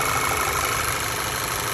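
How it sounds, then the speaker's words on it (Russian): A VAG turbocharged car engine idles smoothly and evenly. It gives a constant, close hum with no knocks or irregular beats. "Моторчик работает очень мягко,"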